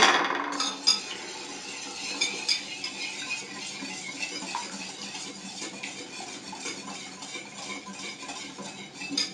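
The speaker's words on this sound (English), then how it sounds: "And we're going to whisk this together." A whisk beats oil, water and baby food together in a bowl, giving a quick, uneven run of light clinks and scrapes that starts a little louder and then settles into steady, fairly quiet stirring.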